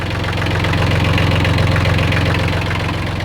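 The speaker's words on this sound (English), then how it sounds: "Got my grandpa's old Kubota B7100 tractor." Steady, loud diesel idle of an old Kubota B7100 tractor, a close, even low chugging rumble with constant mechanical vibration and no pauses.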